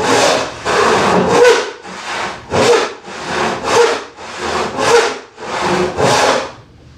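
Hand saw cutting wood for a spice rack, about nine loud close rasping strokes in a steady back-and-forth rhythm with brief pauses between pushes.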